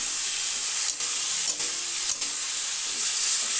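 Ridge gourd being stirred and fried with Kashmiri chili powder, turmeric and coriander powder: a steady close sizzle of frying vegetables with a few brief scraping stirs of a spoon in the pan, no voices.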